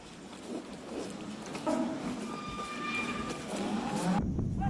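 Yanbian yellow cattle low repeatedly at a farm in Hunchun, the drawn-out moos rising and falling at moderate distance over steady background noise.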